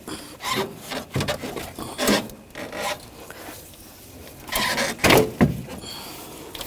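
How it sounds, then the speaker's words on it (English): A radiator is wiggled loose from a 2014-2020 Nissan Rogue during radiator replacement, making close, uneven scraping and rubbing bursts of plastic and metal against the car body, with short pauses between them and no talk. "You can grab the radiator and just wiggle that out of the way a little bit."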